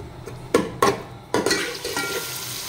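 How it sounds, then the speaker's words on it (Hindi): Onions fry in a cup of hot oil in a pan, a steady sizzle broken by a few sharp stirring clatters of a utensil against the pan, close and fairly loud with no talking. "प्याज जो है ये फ्राई होते हैं"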